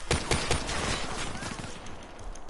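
Rapid gunfire in Black Ops 3 from a non-reloading gun that must be fired one trigger press at a time. Repeated sharp shots ring out at a steady pace over a dense background of game noise.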